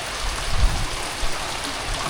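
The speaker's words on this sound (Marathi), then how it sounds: "पाऊस आला आहे, भरपूर वारा आला आहे." Steady monsoon rain hiss in a Konkan village fills the whole stretch, a broad even wash of drops with low rumbling gusts of strong wind underneath, no voices.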